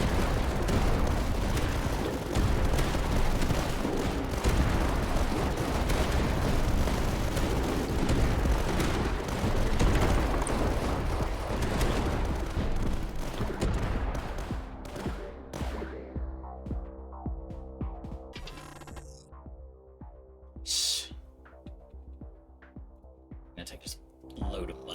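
Cannons fire in the tower-defense video game Tower Dominion, building into a dense, continuous barrage of booms that thins into sparser, separate blasts. A voice talks over parts of it.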